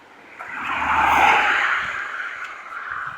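An outdoor car swells in with a broad rushing whoosh, peaks about a second in, and fades away; a fainter second approach follows near the end.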